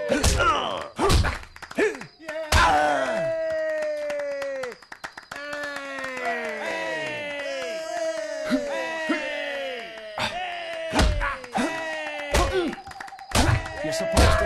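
Fist fight in Fable Anniversary, with heavy punches landing as sharp thuds scattered through the brawl, mixed with grunts, groans and crowd cheering, all close and loud.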